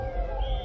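Ambulance siren wailing through quiet city streets during a lockdown, a steady sustained tone heard at moderate distance over low background rumble, with no talking.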